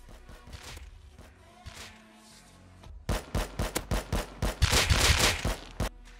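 Bursts of MP5 submachine gunfire in the video game Rust, a scattered pattern of quieter shots followed by a loud, rapid string of close, sharp reports, with no speech.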